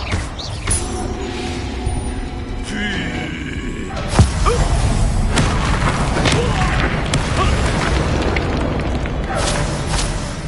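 A Confringo blasting spell explodes in the Hogwarts Legacy video game: one sharp, booming blast near the middle, set within a steady bed of game music and ambient effects.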